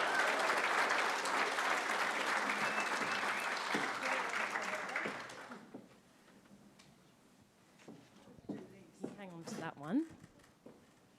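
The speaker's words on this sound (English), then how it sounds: "Everybody, please give Tammy a huge round of applause." Audience applause for a speaker at a brain injury awareness event, a dense steady clapping crowd for about five seconds that then cuts off, followed by quieter room noise with brief voices.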